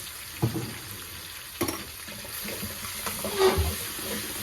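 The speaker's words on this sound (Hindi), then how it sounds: "इसको थोड़ा सा सौते करेंगे।" Two spoons of garlic ginger paste sautéing in a pan, a soft steady sizzle with a few scraping stirs and clinks of a spoon, faint and close, with no voices.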